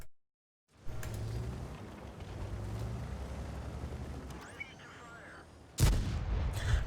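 Indien-Panzer tank cannon fire in a World of Tanks match on Fisherman's Bay: continuous low battle rumble with distant booms, then one loud, sharp close shot near the end, no talk.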